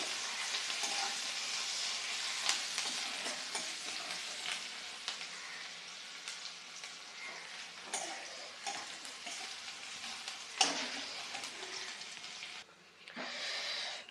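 Garlic fries in a pan until reddish, a steady close sizzle and hiss running throughout, with occasional stirring scrapes and no voices.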